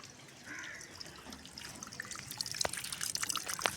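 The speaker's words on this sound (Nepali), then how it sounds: "यहाँबाट पानी निस्कियो" Water runs from an opened tap through a pipe, a faint trickle that grows into irregular splashing and dripping, close by and without talk.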